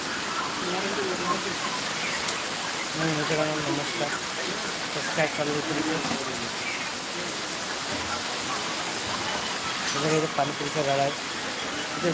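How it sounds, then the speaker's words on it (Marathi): Continuous rain pours down in a broad, steady wash of noise, while faint voices come and go beneath it. "पाऊस चालू आहे"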